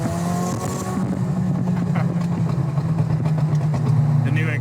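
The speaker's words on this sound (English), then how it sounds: "The new exhaust sounds crazy." A car with a new exhaust idles and burbles loudly close by, with occasional pops and a slight rise in revs, while people talk over it.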